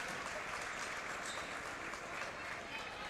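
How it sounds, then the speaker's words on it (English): A crowd applauds steadily at a girls' high school basketball game in a gym, with a dense, continuous wash of clapping and murmuring voices mixed in. "nice crowd here gives her a hand."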